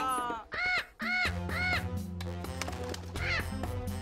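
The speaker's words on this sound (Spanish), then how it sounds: "El mimado loro de Raquel hizo popó sobre las monedas de Rapunzel" A parrot squawks in a run of harsh, raspy calls, several in quick succession, loud and close. A low, steady tone sits beneath the later calls.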